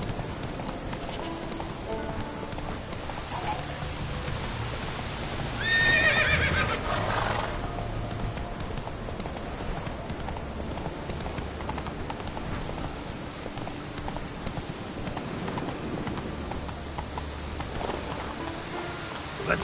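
Roach, Geralt's horse in The Witcher 3, whinnies and gallops across Skellige amid steady rain, the neigh rising briefly above a constant wash of hoofbeats and weather.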